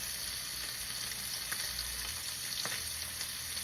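Bacon fries in a pan on a stovetop, a steady close hiss and crackle with faint pops throughout, without talk.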